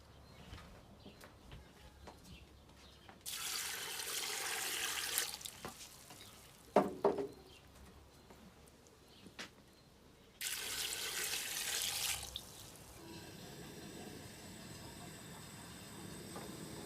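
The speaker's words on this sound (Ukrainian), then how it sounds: "шишки треба залити водою. На 1 кг ми заливаємо 2 літри води." Water poured into a pot holding a kilogram of pine cones for a forest cough syrup, heard as two separate bursts of rushing, splashing flow with quieter handling clatter between them.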